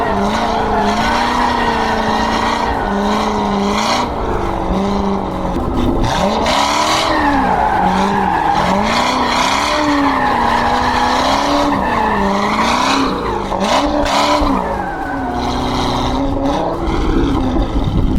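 A green BMW E46 drift car screams around a track, its tires squealing continuously while the engine revs rise and fall in long sweeping waves, loud and close throughout.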